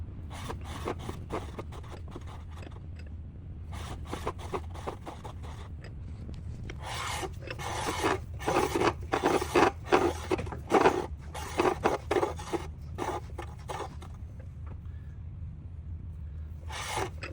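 A counterbore cutting tool scrapes and rasps into a diesel engine block to set piston liner protrusion, in repeated short bursts that grow louder midway through and then ease off, with no talk.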